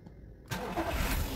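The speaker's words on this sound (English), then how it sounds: "I have started the engine." A Seat Ibiza 1.2 TSI engine cranks briefly and catches, then settles into a steady idle close by.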